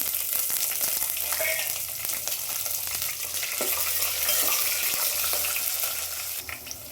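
Curry leaves and green chillies sputter and crackle in hot oil in a pan while cooking vegetable pulao, a steady close sizzle with occasional stirring scrapes and no talking.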